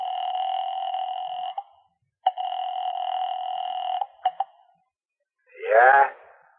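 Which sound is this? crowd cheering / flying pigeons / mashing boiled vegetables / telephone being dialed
telephone being dialed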